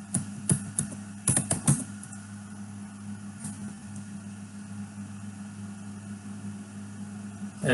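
Keys clatter on a computer keyboard in quick bursts at first, then thin out to occasional soft clicks over a low background hum.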